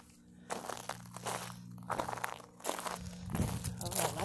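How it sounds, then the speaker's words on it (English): Irregular crunching steps in slippers on loose stones, close and gritty, with scraping and grinding between footfalls at a slow walking pace. "Let's try walking on the rocks."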